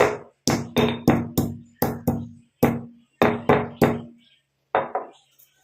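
Almonds being pounded lightly with a pounding tool to crack them: about a dozen sharp, hard knocks in irregular bursts, each ringing briefly, with a short pause before two final strikes.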